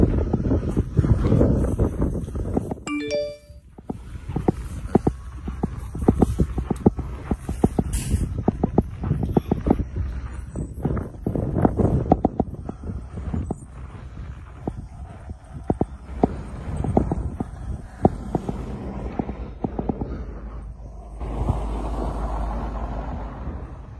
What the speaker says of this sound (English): it is getting more windy. The wind is very gusty.